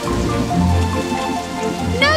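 Cartoon magical rain falls from a storm cloud as a steady close patter of drops over soft musical tones, ending with a brief bright sparkling flourish.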